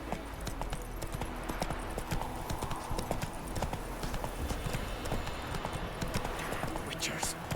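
Roach, Geralt's horse in The Witcher 3, gallops with a steady, loud clip-clop of hooves throughout, joined by game ambience and a faint whinny near the end.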